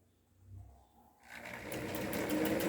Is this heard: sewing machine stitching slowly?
yes